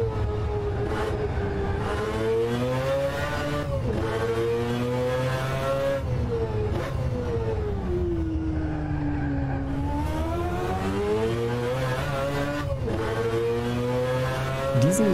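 A Mazda race car engine in the rFactor 2 racing sim, a Le Mans 1991 car, drones loudly and continuously, its pitch climbing and falling through repeated upshifts and lifts, with faint tire squeal.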